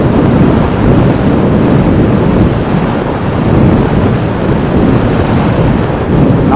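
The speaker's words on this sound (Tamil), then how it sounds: "காற்று ரொம்ப மோசமாக அடிக்குது." Strong wind roars steadily and loudly over the microphone during a motorbike ride on the road from Palladam to Pollachi, a dense continuous rush with no break.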